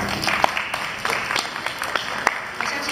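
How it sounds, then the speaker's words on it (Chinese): An audience applauding at a youth summer camp closing ceremony in Toronto, dense steady clapping throughout at moderate distance, with some voices mixed in. "那我们现在再次的掌声"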